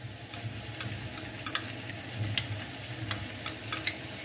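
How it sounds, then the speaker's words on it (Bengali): Prepared spice paste going into katla fish kalia frying in a pan, with a steady sizzle and crackle, soft stirring scrapes and occasional sharp pops close by. "এখন আমি মশলাটা দিয়ে দিই যেটা আমি বানিয়ে রেখেছিলাম।"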